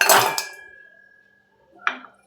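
A metal pot set on a stove gives a bright clang that rings on as a long, fading metallic tone, followed by a second softer clink about two seconds later, close and alone.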